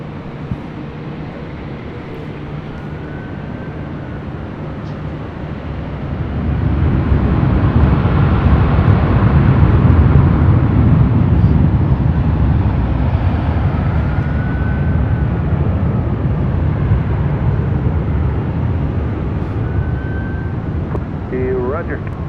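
A Virgin heavy jet taking off from LAX runway 24 left, a broad roar that swells after a few seconds and holds loud and steady, with faint radio-style voices and wind noise.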